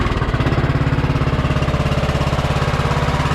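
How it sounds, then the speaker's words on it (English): A Tecumseh V-twin engine on a Craftsman LT1000 lawn tractor runs at a steady idle nearby, giving off a loud, even, rapid chugging pulse with no talking over it. "What kind of engine is that? Oh, that's why it sounds good. It's a V-twin."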